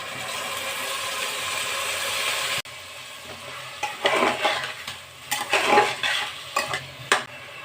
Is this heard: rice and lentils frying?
yes